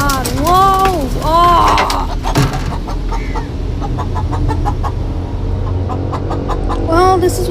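Chickens clucking and squawking loudly close by in a home kitchen, with several rising and falling calls at the start and end over steady background noise and clatter.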